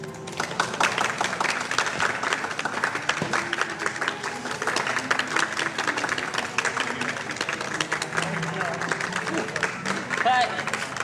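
A film crew on set breaks into sustained applause and scattered clapping after a take, with voices chattering over the dense, crackling clapping throughout.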